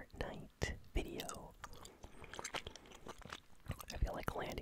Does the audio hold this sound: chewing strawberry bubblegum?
yes